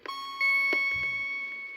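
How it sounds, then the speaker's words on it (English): A single bright bell-like chime signals a page turn on a 1985 My Little Pony read-along storybook record, ringing clearly and sustaining as it slowly fades. "Every time you hear this chime,"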